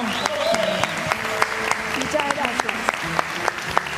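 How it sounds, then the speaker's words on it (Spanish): Applause for the teacher at a Christmas cooking class where glazed pork loin with pineapple has just been presented; scattered, fairly sparse claps under ongoing talk. "Aplauso para la profesora."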